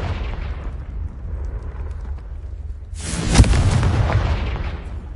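A Confringo blasting spell goes off as a single loud, deep explosion partway through, breaking over a low rumbling background and trailing off into a long roaring rumble.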